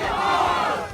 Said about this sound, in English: Like a big round of applause to all of them